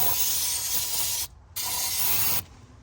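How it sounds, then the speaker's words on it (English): Throttle body cleaner blasted into the carburetor of a 1968 Ford F100 in two long, loud, close hissing sprays with a brief pause between, no talking. "crack it open, put some throttle body cleaner down it"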